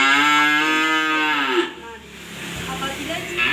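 A cow bellows a long, loud, drawn-out moo at close range during a ruminant livestock health examination, followed by quieter handling noise and a low rumble.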